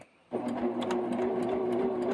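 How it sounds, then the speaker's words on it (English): A sewing machine runs steadily after a brief quiet start, its motor whirring and needle clicking in an even, close, continuous rhythm with no talking. "I've got a sewing machine that has 170 different stitches on it."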